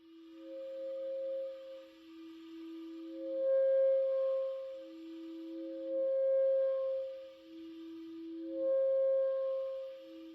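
A clarinet plays a dyad multiphonic whose two tones alternate back and forth as reed pressure shifts, swelling and fading in slow, regular waves; soft, close and solo with no talking.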